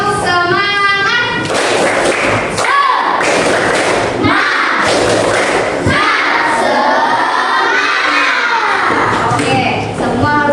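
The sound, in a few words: classroom children doing a rhythmic 'tepuk semangat' clapping chant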